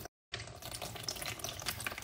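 Blended grapes and water are strained through a sieve, giving a steady close-up wet trickling and splashing with a soft hiss, after a brief silent gap at the start.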